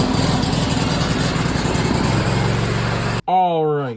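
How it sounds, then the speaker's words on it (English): An old Kohler engine on a Bad Boy lawn mower runs loud and steady close by, idling with a rough mechanical drone, then cuts off abruptly near the end as a person starts speaking. "I'll get it fired up and get it warmed up here."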